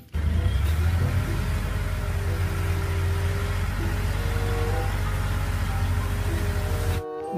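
A toy dump truck gives off a steady, loud motorized engine drone that holds at a constant revving pitch for about seven seconds, then cuts off abruptly near the end.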